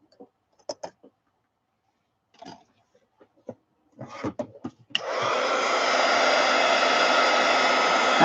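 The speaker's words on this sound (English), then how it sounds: "Now I'm going to hit these with my heat gun real quick." A heat gun blasts napkins dry, starting abruptly after a few soft taps and rustles and then holding a loud, steady, close airy roar.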